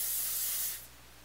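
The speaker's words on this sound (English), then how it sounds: "Spray and Play Harder Hairspray. Just for some hold" Big Sexy Hair Spray and Play Harder hairspray sprays in a loud, steady hiss lasting just under a second, then drops away to quiet room tone.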